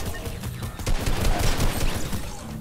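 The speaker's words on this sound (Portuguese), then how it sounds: "Deixa eu dar um tiro." Fortnite gunfire crackles in rapid, dense bursts through a busy game soundscape. The shots run almost continuously for over two seconds at a fairly loud, steady level.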